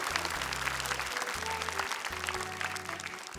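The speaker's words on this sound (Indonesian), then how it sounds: "Tepuk tangan dong untuk Raisa." A studio audience on a televised Indonesian Quran recitation contest claps briefly, with bursts of musical chord tones sounding in the background.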